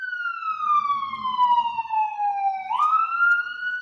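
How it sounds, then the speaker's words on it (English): An ambulance siren passes outside, loud and steady, its wailing tone sliding down in pitch, then jumping up and shifting as it goes by, over a faint low rumble. "it needs to be that ambulance right there"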